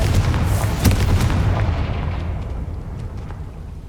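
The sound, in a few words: Confringo blast spell in Hogwarts Legacy video game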